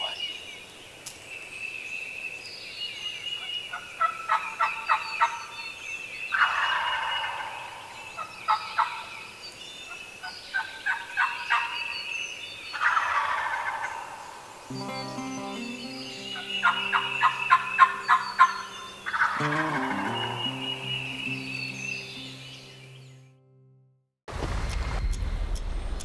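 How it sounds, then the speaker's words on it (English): A flock of wild turkeys gobbles repeatedly in bursts from about a hundred yards off in woods during a hunt, the calls fairly clear over a steady outdoor hiss, joined later by a low droning hum. "There's a bunch of turkeys in here."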